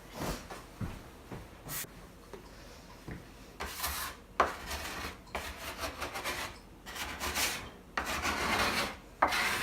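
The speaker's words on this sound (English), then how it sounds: "all of this excess flour I'm just dumping right on top" Excess bench flour is dumped and rubbed over bread dough sitting in a proofing basket, giving soft scattered rasps and brushing swishes in short bursts, close by and fairly quiet, with no talk.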